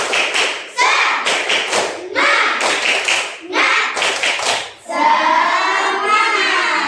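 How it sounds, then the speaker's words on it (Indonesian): A class performs a rhythmic group clapping chant, tepuk semangat, in a classroom: bursts of sharp, loud claps in a patterned rhythm, followed by voices calling out together. "sebelum saya baca kita tepuk semangat dulu ya"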